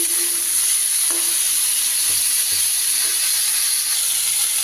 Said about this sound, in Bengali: আমার ফুলকপিগুলো কিন্তু এবার ভাজা হয়ে গেছে